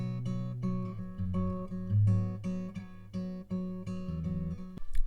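Acoustic guitar strumming a 1-6-4 chord progression in the style of a song, with steady rhythmic strokes and chord changes, played up close with no voices.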